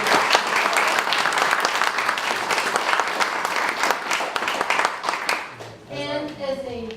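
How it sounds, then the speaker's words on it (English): Sustained applause from an audience at a poetry contest honouring a participant, dense steady clapping for about six seconds before fading, with a few voices speaking near the end. "Just one more round of applause for Alice Cochemba joining us."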